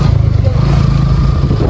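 A motorcycle riding along a village road, its engine giving a loud, continuous low rumble with steady pulsing, close up and filling the clip.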